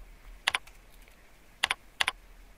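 Computer keyboard keys click in three short bursts of two or three taps each during database data entry, close and fairly crisp against a quiet room.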